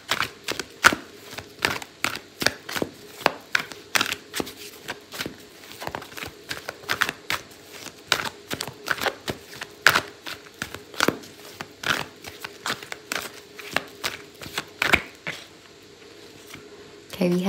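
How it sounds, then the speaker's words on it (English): Tarot cards being shuffled during a Leo love reading, with a long run of quick, crisp riffling snaps and flicks, fairly close and steady for most of the stretch, then easing off near the end. "I'm going to pull out a card for your advice, Leo."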